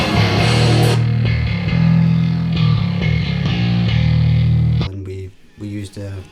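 A bass guitar is played through a Darkglass distortion pedal, with thick, gritty low notes in a riff that ends in short, choppy stabs.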